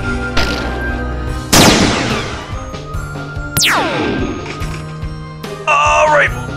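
Gunfire in an animated Rick and Morty versus Frieza battle: heavy cracking blasts and smashes with ringing sweeping tails, several loud bursts over a dense, busy backdrop of effects.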